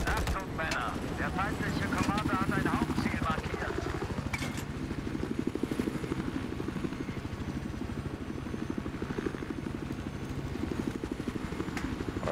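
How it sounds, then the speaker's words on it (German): An enemy helicopter in the video game Battlefield 4 keeps up a steady throbbing rotor drone for the whole stretch, thick and loud, mixed with dense battle noise. "Ich hab Kontakt zu einem feindlichen Helikopter."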